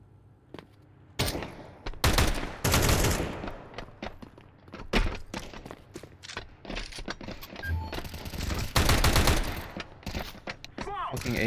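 AK rifle fire in a first-person shooter game, with bursts of loud close gunshots and rapid automatic volleys scattered across the span, mixed with thuds and impacts and a voice speaking beneath the shooting.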